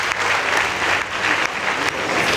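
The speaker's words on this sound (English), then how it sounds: "Please give them a round of applause." A school debate audience at a Nyeri High School versus Mahiga Girls competition claps in a continuous, dense burst of many hands, steady and loud with brief dips.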